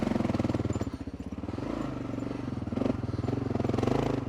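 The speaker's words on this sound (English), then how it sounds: "I put an FMF pipe on here and it sounds good, but it is loud" Kawasaki KLR 650 motorcycle fitted with an FMF aftermarket exhaust, its engine loud and close with a rapid, steady, throaty firing pulse that rises and falls slightly as the throttle varies, with no talking.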